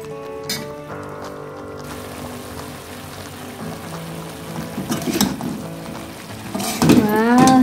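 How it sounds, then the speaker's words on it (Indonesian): Chicken being stirred in a pan as its released water cooks off on the stove, a steady bubbling sizzle with scraping and clinking from the spoon, growing louder toward the end. "Ini diaduk-aduk sampai dia airnya mengering."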